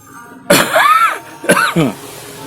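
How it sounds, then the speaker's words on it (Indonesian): Two or three harsh, close coughs in quick succession, loud and abrupt against quiet surroundings. "Batuk saya."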